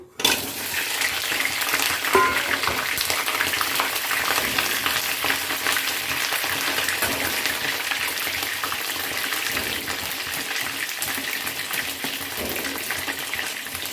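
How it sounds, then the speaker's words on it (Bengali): Eggplant pieces frying in hot oil for a Bengali winter mixed-vegetable chorchori, a steady loud crackling sizzle with bubbling spatter that runs unbroken throughout, with no voices. "প্রথমে তেলে আমি কতগুলো বেগুন দিয়ে ভেজে নিচ্ছি"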